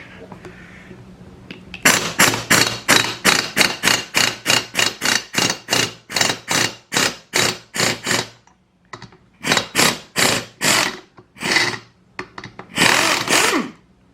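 An air impact tool loosens the 13 mm flywheel nut on a Stihl 019T chainsaw in a long run of rapid, sharp rattling blasts, then a few shorter bursts, close and loud.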